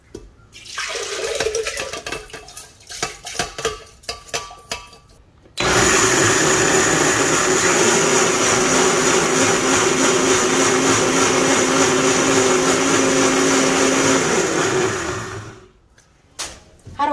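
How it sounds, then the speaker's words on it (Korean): A blender grinds abalone and brown rice loudly and steadily for about ten seconds, starting abruptly and winding down, after some clattering and handling noises. "믹서기에다 이제 갈아줍니다."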